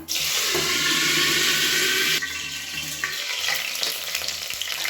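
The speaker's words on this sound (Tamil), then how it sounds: "இப்போ புதினா கருவேப்பிலை எல்லாமே பொரியுது." Mint and curry leaves burst into a loud, dense sizzle as they hit hot oil in a pan, roaring for about two seconds and then settling into a quieter, steady frying hiss.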